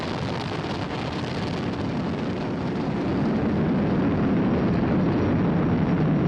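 Falcon 9 rocket first-stage engines roaring about twenty seconds into flight on the May 2020 crewed Dragon launch, a dense, continuous broadband rumble that swells slightly louder partway through, distant yet powerful, with no voices over it.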